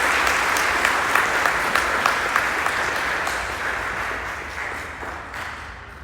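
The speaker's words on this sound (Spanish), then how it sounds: "Le brindamos un fuerte aplauso." Sustained applause from an audience welcoming Monseñor Miguel Ángel Castro Muñoz, bishop of the Diocese of Huajuapan de León, at a ceremony: dense, steady clapping with a few sharper claps that gradually fades over six seconds.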